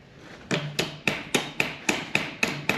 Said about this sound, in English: I take this lightweight little hammer